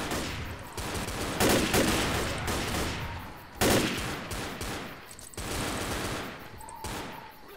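Rapid video game gunfire in Left 4 Dead, sustained automatic bursts with a few louder shots, loud and near, with no talk over it.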